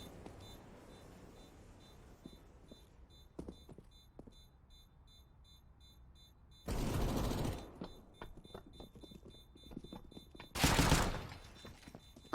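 Gunfire in a Counter-Strike match on Overpass, with two loud bursts of shots standing out over quieter clicks and background game noise, no voices.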